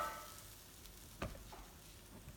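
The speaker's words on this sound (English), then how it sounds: "onions are sauteing in the pan there" Onions sauté in a pan while vegan vegetable pasta is being made, giving a faint, steady sizzle with a brief stir or clink partway through.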